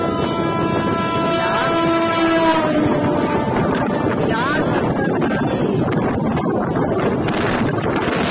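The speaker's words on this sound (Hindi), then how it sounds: "यहाँ पे बिहार संपर्क क्रांति हमें क्रॉस करने वाली है" The Bihar Sampark Kranti express rumbles past close by, loud and continuous, with sustained horn tones early on. Someone talks over the train noise.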